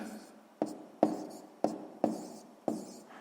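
A pen writes numbers on paper while a sixth-grade math answer is recorded, giving five sharp, evenly spaced taps, each followed by soft scratching strokes, close and quiet with no talk.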